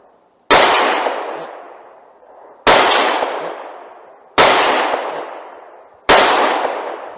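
Four Taurus G2C pistol shots aimed at a distant metal tank, each a sharp loud crack with a long echoing decay, spaced about two seconds apart, no talking.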